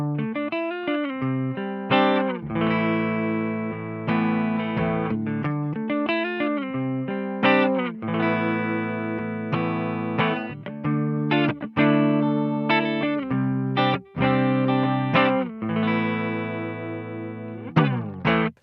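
A Yamaha RevStar RS820 electric guitar runs through a Mua Preamp X2 into a DemonFX Reverb and Delay Workstation, playing a steady run of sustained, effected notes and chords with a distorted tone and trailing echoes, alone with no talk.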